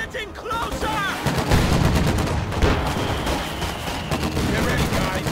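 Dense gunfire in a Company of Heroes 2 Ardennes Assault battle at Ouren, with overlapping rifle and machine-gun bursts and heavy booms forming a loud, continuous barrage under shouted voices.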